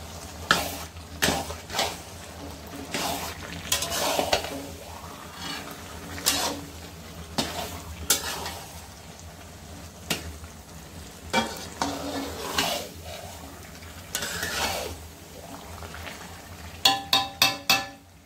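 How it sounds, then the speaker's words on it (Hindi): Vegetables are stirred into sizzling masala in a pan for pav bhaji, with a steady frying hiss under repeated scraping and clanking of a spatula against metal, ending in a quick run of sharp taps. "अब इसके अंदर ये सब्जियां डाल देते हैं और सब्जी डाल के इसको मिला देंगे"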